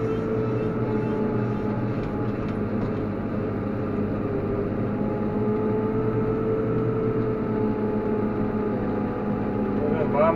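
A Deutz-Fahr 5130 TTV tractor drives through a field pulling a disc harrow for winter barley. Its engine gives a steady, moderately loud, continuous drone with a faint rumble and no clear voices.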